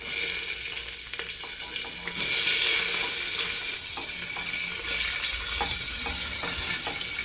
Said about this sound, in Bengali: এই যে কেটে ধুয়ে রাখা সবজিগুলো এখন আমি দিয়ে দেব।